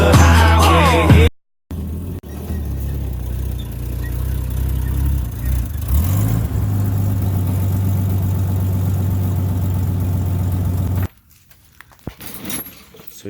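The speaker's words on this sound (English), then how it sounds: "We're going off-road, way back off the highway." A Jeep Wrangler drives off-road far from the highway. Its engine makes a loud, steady mid-to-low drone with shifts in pitch and a few abrupt cuts, then falls to quieter rustling and knocks near the end.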